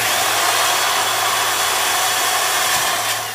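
A power drill drilling through a wooden stick held in a table clamp whines steadily and loudly at close range, a continuous high buzz with no talking.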